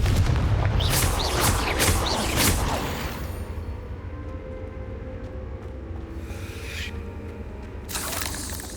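In Hogwarts Legacy, a Confringo blasting spell fires off as several loud, rapid booming bursts in the first few seconds, then fades into a low rumble with a fainter flare near the end.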